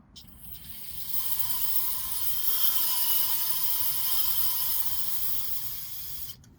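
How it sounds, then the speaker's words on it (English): Brake cleaner sprayed from an aerosol can into a hole while working on a Ram 3500 wheel bearing: one sustained, loud, close hiss lasting several seconds, starting and stopping abruptly, with no voices over it. "I'm just going to spray some of this brake cleaner in the hole"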